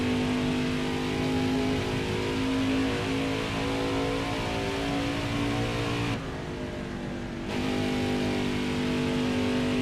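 A loud, steady video game race car engine at Dover drones at a constant pitch, briefly dropping for about a second before returning to the same sustained roar.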